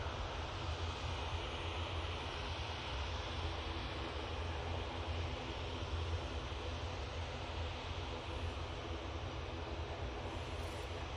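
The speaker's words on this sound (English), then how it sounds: "my favourite aircraft of them all is about to turn on to final, using the 737 today" A Boeing 737 airliner turning onto final approach at an airport, heard as a faint, steady distant engine roar with a low rumble that holds evenly throughout, with no voices.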